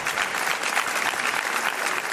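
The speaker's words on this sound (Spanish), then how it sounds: "Os pido un aplauso para el cronista oficial de la Villa de Quesada." Steady, full applause from a crowd honoring the official chronicler of the town of Quesada, dense clapping sustained evenly throughout at a moderate distance.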